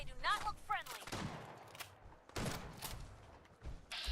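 Gunfire in the video game Fallout 4 during a fight with hostile raiders: scattered sharp gunshots in irregular bursts, fairly quiet overall, mixed with brief vocal sounds and game effects.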